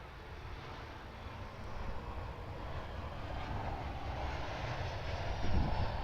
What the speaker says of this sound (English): Virgin Australia Boeing 737-800 from Broome.